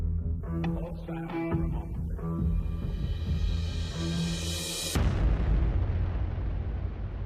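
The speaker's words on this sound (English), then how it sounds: "Apollo 13 blasted into space on a fateful trip that would grip the world" The Apollo 13 rocket launch roars with a deep, rumbling thunder that swells steadily, ending in a broad, loud blast of sustained noise.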